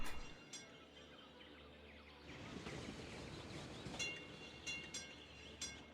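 A tram runs along its line in the city-building game Cities: Skylines, giving a steady rolling rumble that swells after a quieter start, with faint bird chirps on top and no talk.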